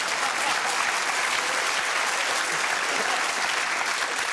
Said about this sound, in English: I would describe that round of applause as concerning